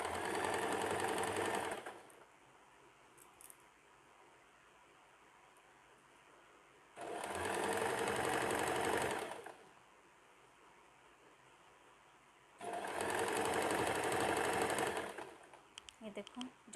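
A sewing machine stitches the seams of an extra-large night pajama in three loud, rapid bursts. Quieter pauses separate the bursts, with faint talk in the gaps.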